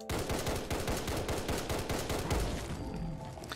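An SPR rifle fires 5.56 rounds in Fallout 4, a rapid run of loud, close shots cracking one after another for about three seconds before trailing off.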